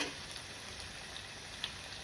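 Soft, steady sizzling of ham frying in a pan, quiet and close, with a faint pop or two.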